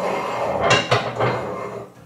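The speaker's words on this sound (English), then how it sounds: "we're going to slide our axle beam in." A metal axle beam slides into the frame of a tow-behind sprayer, giving a few short metallic scrapes and clanks of metal against metal, close by, with no talking.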